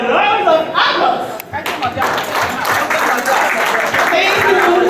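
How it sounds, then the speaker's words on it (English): A round of applause at a Christmas party for a community foundation, scattered claps and a few loud taps under ongoing talk and chatter, moderately near. "can you give them a round of applause?"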